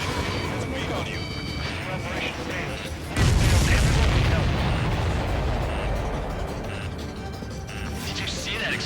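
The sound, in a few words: supply ship explosion in the video game Ace Combat 7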